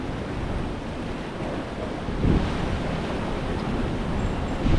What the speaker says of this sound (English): the waves will slam you into the rocks if you're close to them